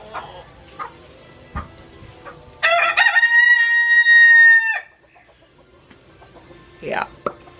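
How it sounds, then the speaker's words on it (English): A wild rooster in Suriname crows loudly once, with a long drawn-out call, while scattered wild hens cluck softly before and after it. "They are wild chickens, but I don't see them at the neighbors."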